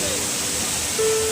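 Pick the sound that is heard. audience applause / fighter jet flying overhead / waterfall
waterfall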